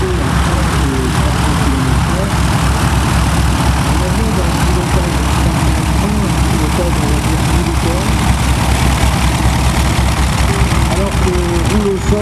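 A Junkers Ju 52 trimotor taxiing past at an airshow, its engines droning steadily and loudly with a throbbing low rumble throughout, while a commentator talks over it.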